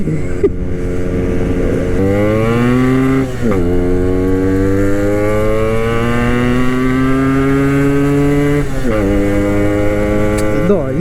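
A Yamaha RX motorcycle engine drones loudly at high revs at full throttle in fourth gear, pitch climbing steadily through a long pull with brief dips, close and continuous.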